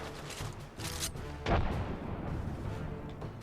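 Gunfire rattles in an Apex Legends match as bursts of weapon fire and booming shots pile up at mid distance, with one louder crack partway through, over the game's background noise.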